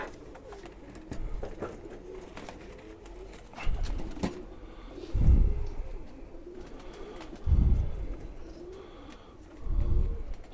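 Khaki pigeons coo in deep, rolling bursts, several distinct coos spaced a couple of seconds apart, close and fairly loud against a light background.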